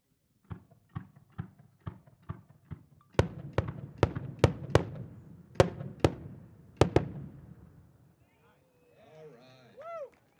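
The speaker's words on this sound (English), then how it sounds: "Next up, we've got a series of Lamparis from John Schweibel" Italian-style Lampare firework shells bursting at a display, a rapid run of distant thuds building into louder sharp reports, then fading, with voices murmuring near the end.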